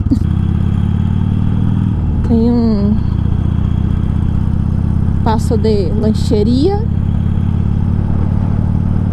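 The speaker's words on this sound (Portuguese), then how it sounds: "minha moto tá com barulho horroroso. É, é, é, barulho de moto velha mesmo" An old motorcycle rattles and drones steadily while riding on a hot desert road in Chile toward Calama, its engine noise loud and constant throughout, with someone speaking briefly over it.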